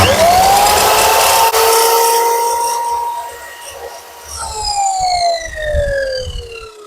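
A Procraft PGS217 mitre saw (1400 W, 4900 rpm, 210 mm blade) makes a 45-degree cut: its motor whine climbs sharply, holds a steady high pitch, then sinks as the blade winds down, loud and close with no talking.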